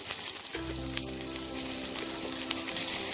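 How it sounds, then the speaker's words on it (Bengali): Sliced onions frying in hot oil for a coriander chicken curry, a steady close sizzle with a low hum underneath that holds evenly for about three seconds. "পেঁয়াজটা আমি হালকা ব্রাউন করে ভেজে নেব"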